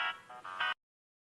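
A phone rings indoors in a family home, a short bright electronic trill pulsing a few times before cutting off abruptly into silence.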